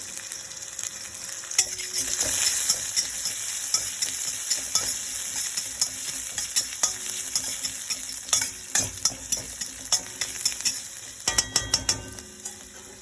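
Onion, garlic and cumin fry in hot oil in a pan, a constant close sizzle punctuated by frequent sharp clacks and scrapes of a spatula stirring, growing busier toward the end, with no voices.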